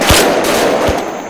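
Gunfire during a Vietnam-era military game mission, with a steady crackle of rapid shots and a couple of heavier thumps, loud and dense, sounding from a rooftop firefight.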